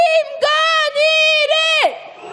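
A name chanted at a rainy impeachment protest march, drawn-out vocal syllables in a steady cadence, loud and close like an amplified chant leader, with a muffled outdoor wash behind.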